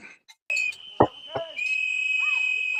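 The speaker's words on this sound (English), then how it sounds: "there's a lot of whistling going on" A high, steady whistle sounds continuously, broken by a couple of short, sharp bursts of noise.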